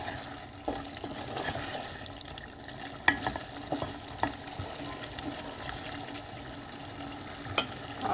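Pieces of pointed gourd are stirred as they fry in a pan, with a steady close sizzle broken by scraping stirs and occasional sharper taps of the utensil.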